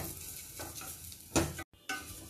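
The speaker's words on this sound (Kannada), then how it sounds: "ತುಪ್ಪ ಹಾಕ್ಕೊಂಡು ಚೆನ್ನಾಗಿ ಹುರ್ಕೊಳ್ಳೋಣ" Semiya vermicelli roasts in ghee in a pan with a soft sizzle. A few scraping stirs break through, one louder scrape near the end is followed by a brief dropout, and no one speaks.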